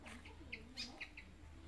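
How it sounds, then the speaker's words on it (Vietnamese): Several short, high chirps from a small fantail bird, scattered and fairly faint over a quiet background. "Chim nó nhảy, chim rẽ quạt nhảy rồi cô."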